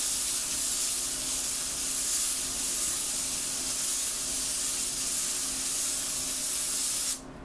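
An airbrush spraying paint for script lettering gives a steady, close, loud hiss that runs unbroken for about seven seconds and then cuts off sharply, with no voices.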